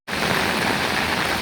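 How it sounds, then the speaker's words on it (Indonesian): Heavy rain driven by strong wind near an irrigation canal in Desa Satria Mekar, heard as a loud, dense, steady roar that starts abruptly and continues unbroken. "Waduh, hujan deras disertai angin kencang"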